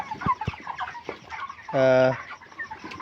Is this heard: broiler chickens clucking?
yes